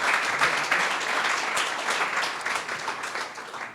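An audience at a community event gives a brief round of applause, dense and continuous clapping from many hands that holds steady for a few seconds before easing slightly.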